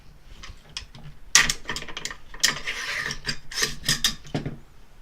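An AR-15 rifle receiver is popped open to expose the bolt carrier group, giving a quick series of close, crisp metallic clicks and snaps of varying loudness with no talking.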